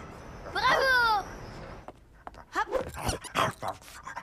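A dog gives a high whining yelp, then pants and snuffles nearby in short bursts, close and fairly clear.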